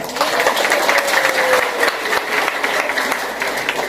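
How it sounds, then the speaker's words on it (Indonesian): Sustained applause from an audience at an Islamic sermon gathering in Jember, East Java, with steady dense clapping that fills the whole stretch at an even, fairly loud level. "Tepuk tangan untuk mereka"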